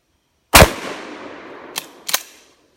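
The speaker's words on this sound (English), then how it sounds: "let's see what happens when I shoot downrange birdshot at a whole bunch of small targets" Shotgun firing birdshot downrange at a spread of small targets on an outdoor range: one loud close blast with a ringing decay, then two sharp fainter cracks that sound like pellets striking.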